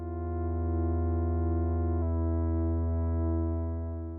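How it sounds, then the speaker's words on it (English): Four oscillators of the Arturia Moog Modular V software synthesizer sound together as one sustained buzzy, harmonically rich tone, steady and held, with a slight change in timbre partway through and no voices. "Now we're hearing 4 oscillators together."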